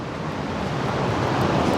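Steady broadband rush of a waterfall in the background outdoors, continuous and even, with the level swelling slightly toward the end; no voices.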